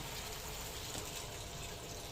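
Water pours steadily into a pan of tiger skin eggs simmering in soy sauce, a continuous close liquid wash and trickle lasting about two seconds with no talking.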